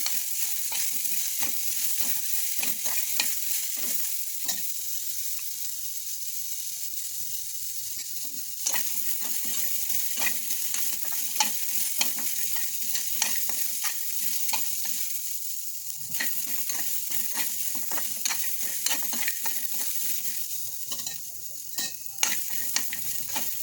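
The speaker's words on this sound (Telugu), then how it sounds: "పచ్చి కొబ్బరి బాగా వేయించుకోవాలి" Fresh coconut pieces fry in a pan for coconut chutney, giving a steady close sizzle broken by frequent scraping clicks of stirring throughout, with no talking.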